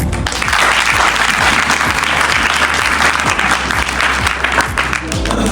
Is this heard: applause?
yes